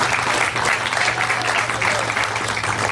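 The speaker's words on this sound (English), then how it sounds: "you give the Lord a round of applause." An audience claps together in a meeting hall, giving a short, dense burst of applause at steady volume with a low hum underneath and faint voices mixed in.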